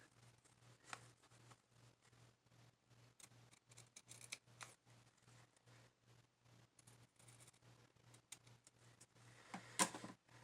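Scissors trim paper for a junk journal, giving a quiet series of crisp snips and rustles in an uneven rhythm, close but faint against a low steady hum.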